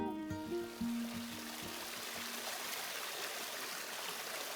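Water bubbling and trickling down rocks beside a path in a Vorarlberg gorge, a steady close rushing wash that takes over after a brief fading tone at the start.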